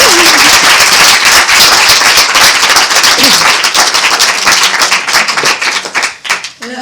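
A cinema audience at a public film forum screening breaks into sustained, dense applause, loud and close, which thins out into scattered claps over the last second or two.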